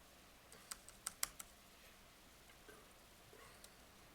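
Quiet computer keyboard typing comes as a quick burst of five or six soft keystrokes, followed by a couple of isolated faint taps against a hushed room.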